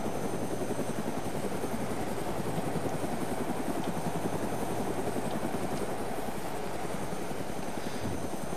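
A helicopter in the video game DayZ on the Namalsk map flies steadily close by, a loud continuous rotor thrum with rapid blade chop and engine whine, alone without talk.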